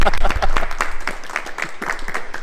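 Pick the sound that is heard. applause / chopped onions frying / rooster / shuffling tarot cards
applause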